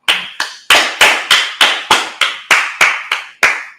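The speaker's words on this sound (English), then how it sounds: "Clap it up." About eleven sharp hand claps in quick succession at a Sabbath service, loud and close, with short gaps between them and no talking.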